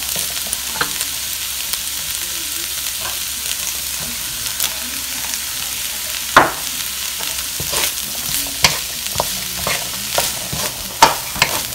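Coconut chunks and chickpeas sizzle in a frying pan while a spoon stirs them, making scattered sharp scrapes and knocks over a constant frying hiss. No one speaks.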